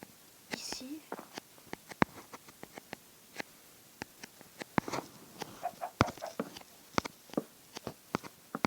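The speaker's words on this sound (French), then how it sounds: "Oh, un poulet." A chicken in a video game clucks softly among frequent sharp clicks and taps, while a person talks quietly in French over it.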